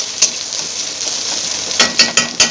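Onions fry in a pan with a steady hiss, broken by sharp metallic clinks and scrapes from stirring, several quick clinks bunched near the end.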